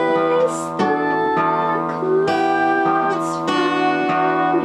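Acoustic guitar strumming the chord changes of a song, several sustained chords ringing out one after another, close and clear with no talking.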